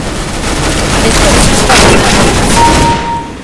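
Rapid gunfire in CS:GO deathmatch play, a dense continuous barrage of shots and booms, loud and close, running the whole stretch without a break.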